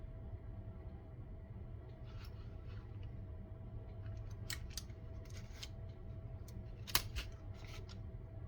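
A corner rounder punch trimming the corners of a paper junk journal card, several crisp close snips and clacks, one sharper snap near the end, over a quiet low room hum.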